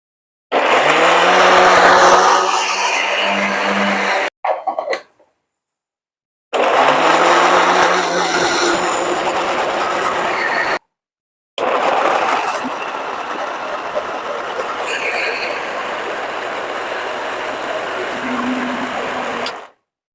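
An electric grinder whirring through ginger and tomato to make paste, three loud motor runs separated by short pauses, the pitch shifting as the load changes.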